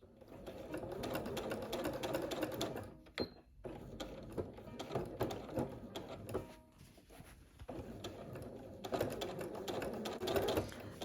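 A sewing machine stitches quilt fabric in rapid mechanical runs, pausing briefly between bursts, close up and fairly quiet.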